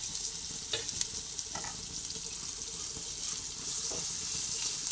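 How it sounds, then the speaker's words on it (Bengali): Spices with Kashmiri chili powder and chopped ginger fry in a pan, giving a soft, steady sizzle with a few stirring scrapes. It is fairly quiet, with no talking. "মশলাগুলো ভালোভাবে ভেজে নিচ্ছি"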